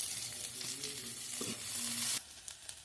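Onion fries in a tadka with cumin, ajwain and curry leaves for leftover dal, a close, dense sizzle that holds for about two seconds and then drops away abruptly to a softer hiss.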